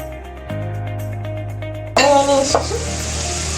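Mustard seeds and urad dal dropped into hot oil in a pan, a sudden loud burst of sizzling and crackling after a quiet hum, settling into steady frying.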